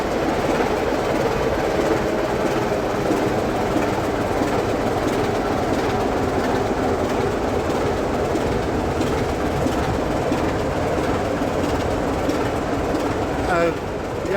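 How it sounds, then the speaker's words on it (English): A restored heritage diesel locomotive stands at Toddington station on a heritage railway. Its engine and the rail noise keep up a continuous loud rumble and rattle close by, with a brief squeal near the end. "that is definitely a very nice looking locomotive"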